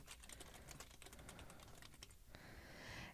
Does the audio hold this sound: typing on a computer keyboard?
yes